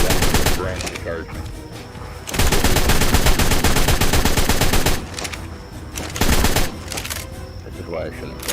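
Bursts of automatic gunfire in Ark: Ragnarok as dinosaurs are shot, loud rapid volleys alternating with quieter stretches and brief pauses, with faint voices in the background.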